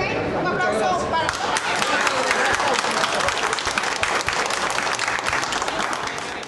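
A large audience applauds loudly and continuously at a participatory-budget community meeting in Maca-Petare, with dense clapping and crowd chatter mixed throughout.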